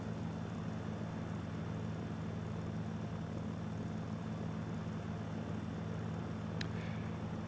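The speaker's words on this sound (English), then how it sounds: "Prop full forward, high RPM we got." A Mooney's propeller engine at high RPM in a VR flight simulator gives a steady, loud, unbroken drone with a low hum throughout and no pauses.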